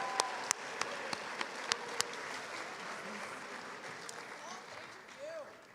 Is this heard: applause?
yes